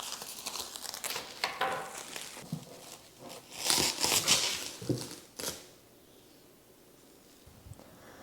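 Packaging from a 1:8 scale Amalgam model car box of a McLaren Vision Gran Turismo being unwrapped, with close bursts of crinkling, rustling and tearing that fade to quiet handling near the end.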